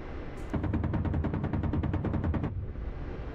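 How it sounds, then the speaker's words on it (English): Rapid burst of about twenty small high-explosive 30mm cannon shell detonations from a KA-50 Black Shark attack helicopter in a combat flight simulator game, evenly spaced crackling pops lasting about two seconds, then fading. "Lots of little explosions."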